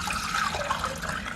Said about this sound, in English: You'll put 4 cups of water right into there.